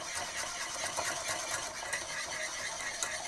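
Enchilada filling of beans, rice, peppers, onions and cheese stirred in a pan, a dense continuous scraping and rustling close up with no pause.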